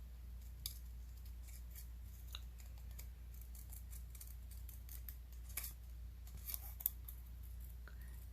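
Scissors snip through paper while trimming a stamped card piece inside pencil marks, a scattered series of faint, brief cuts over a steady low hum, with no talking.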